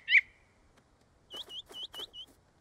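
A single sharp whistle-like tweet, then a quick run of four or five soft chirps from a cartoon bird close by in an otherwise quiet space.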